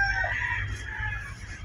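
Laying hen in a backyard coop among nesting hens whose eggs are hatching chicks, clucking softly and steadily for under two seconds over a low rumbling background, with no talk.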